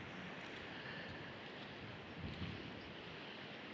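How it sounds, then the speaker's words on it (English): Ocean waves wash in as a faint, continuous broadband hiss with a soft swell near the middle, distant and alone, blended with light wind. "Take a moment and listen to these elements, the ocean, the birds"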